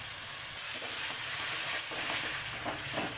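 Tomato puree poured into a pan of golden-brown fried onions for lauki kofta, giving a loud, close, continuous hiss of sizzling that rises slightly when the puree goes in, with faint stirring scrapes.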